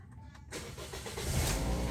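A car with a faulty alternator sits quiet, then its engine cranks and catches, settling into a steady, rising idle rumble close by.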